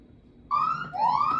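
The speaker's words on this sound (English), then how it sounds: "the 4-minute timer is" A classroom timer alarm sounding a loud, tonal electronic beep that starts abruptly and rises, with two sustained pitched tones in quick succession.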